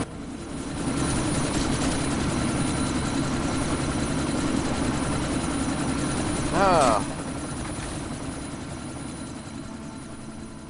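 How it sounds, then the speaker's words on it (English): Helicopter in the video game Deus Ex: Mankind Divided, its steady loud rotor and engine drone running throughout under game music and radio voices, with a brief sharper burst near the end. "That chopper's about to take off."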